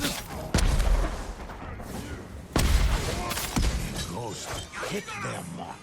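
Black powder bomb exploding in Ghost of Tsushima, with two sharp, loud booms a couple of seconds apart followed by crackling debris, and someone speaking over the action.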